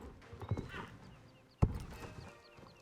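Horse hooves clop in the online riding game Star Stable, a few soft, separate footfalls over a quiet game-world background, with one louder, sharper hoof strike partway through.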